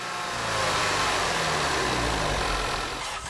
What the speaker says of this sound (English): The Golf GTI has a 2-liter TSI engine with dual superchargers and 210 horsepower.